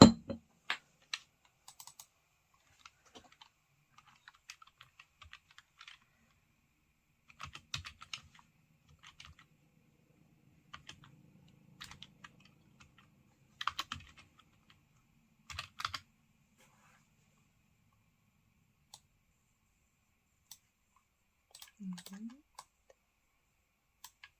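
Keys clatter on a computer keyboard in short bursts of quick, close typing separated by pauses, with a faint low murmur of a voice in the background partway through.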